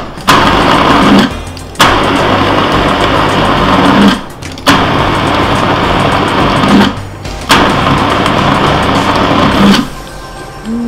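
A food processor whirs at high speed blending chicken breast meat into a paste for diet meatballs, running in four loud sustained bursts with short pauses between them, no talking.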